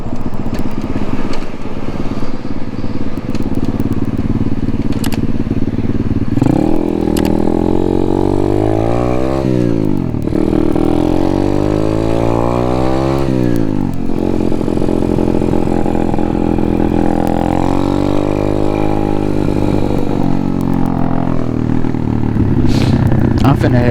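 A pit bike motorcycle ridden along a street, its engine droning loudly throughout with rising and falling revs as it accelerates and slows, close to the listener with wind noise and a voice at moments.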